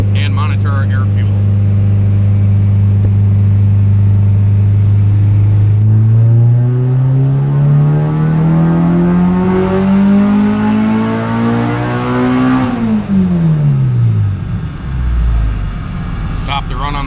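An LS VTEC engine in a car on a dyno revs loud and close at full throttle, pitch rising steadily to a peak before dropping off sharply as the throttle lifts.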